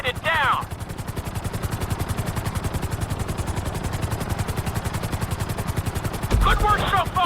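Video game helicopter in flight, its rotor beating in a fast, even chop that runs the whole way through, with brief bursts of voice at the start and near the end.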